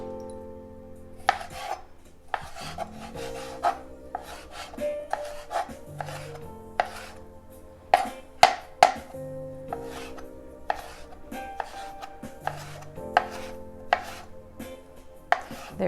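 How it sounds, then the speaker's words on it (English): Knife chopping thin strips into small bites on a cutting board, a series of sharp, close taps in irregular bursts with no talk. "we will take those strips and we will chop those into small bites"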